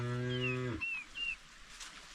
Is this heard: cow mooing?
yes